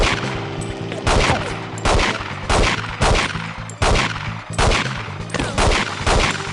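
Gunfire in the video game 007: The World Is Not Enough comes as repeated sharp shots, about eight evenly spaced loud cracks with metallic ringing tails, and no speech.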